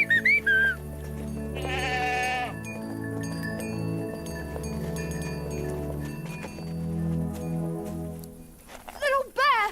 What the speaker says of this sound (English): Come on, move your tails, you lazy goats!